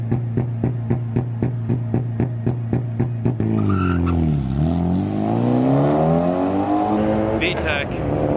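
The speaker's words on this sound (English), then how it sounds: "literally we have this Mitsubishi running up the line right now." A Mitsubishi drag racing at an event near a drifting and demolition derby setting revs in rapid, evenly spaced bursts, then pulls away with a long rising engine wail and faint tire squeal.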